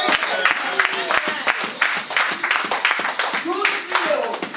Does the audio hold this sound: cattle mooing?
no